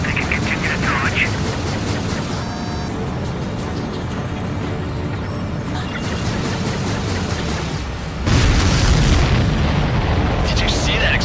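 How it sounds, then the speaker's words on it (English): A loud explosion erupts in the Ace Combat 7 air-combat flight game, a sudden heavy boom with a broadband roar around eight seconds in, over constant jet engine noise and cockpit radio chatter. "Did you see that explosion?"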